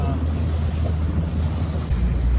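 A dinghy motors across the water, giving a steady broadband rush of engine and hull noise mixed with wind buffeting the microphone, continuous and fairly loud throughout.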